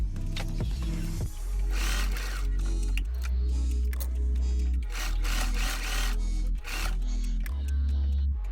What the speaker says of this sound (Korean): 커프스의 3면을 돌아가면서 시접선을 박음질합니다